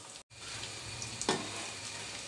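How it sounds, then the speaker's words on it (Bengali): Pakoras frying in hot oil, a steady crackling sizzle after a brief cut, with a single louder pop or stir about halfway through. "এই তো আমি পাকোড়াগুলো ভেজে নিলাম।"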